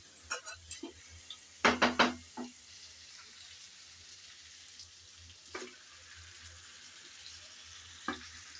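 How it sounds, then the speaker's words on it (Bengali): Chicken and new potatoes frying in a pan, with bursts of stirring clatter and soft sizzling that rise loudly near the start, then fade to a quiet background with a few brief scrapes. "চিকেন দিয়ে আবারও নেড়েচেড়ে ভালো করে কষিয়ে নেব।"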